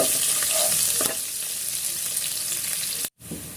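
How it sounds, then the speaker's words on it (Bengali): Chopped onions fry in a pan for bhuna khichuri, a steady loud sizzle with a few stirring scrapes, cutting out briefly near the end. "পেঁয়াজটাকে ভালো মতো ভেজে নিব।"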